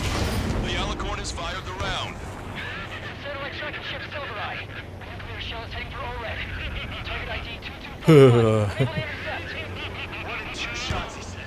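A sudden heavy cannon blast booms out in Ace Combat 7 after a stretch of game noise and chatter, followed by a rumbling tail and a smaller echoing hit.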